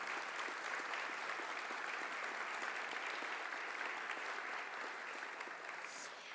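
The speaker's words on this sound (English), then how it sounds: "So I'd say we should have a little applause for Valeria." Steady audience applause fills a hall at a university opening ceremony in Venice, continuous and even for several seconds with no voices over it.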